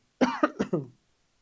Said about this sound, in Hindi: भैया खांसी वांसी हो रखी है, कैसे करें?